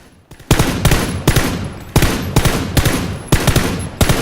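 A burst rifle in PlayerUnknown's Battlegrounds fires loud, close, clipped three-round bursts in a steady tapping rhythm, six or so bursts in quick succession with no talking.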